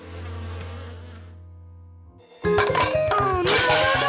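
A bee hive hums with a steady insect buzz in a cartoon scene, continuous and close for about two seconds before it cuts out and gives way to loud bright music.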